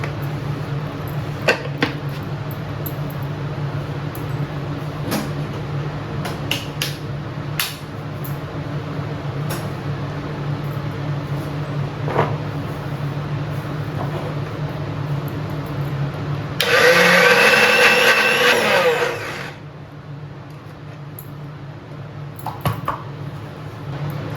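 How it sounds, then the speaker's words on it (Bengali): A mixer grinder blends ingredients into a paste in a home kitchen. It gives one loud, close, steady whirring burst of about three seconds that stands out against quieter background clatter and taps. No one speaks. "মিক্সিতে দিয়ে আরও ভালো করে পেস্ট করে নেবো"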